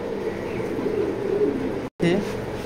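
Racing pigeons in a loft coo in low, soft repeated murmurs, close by, under faint talk, with a brief dropout near the end.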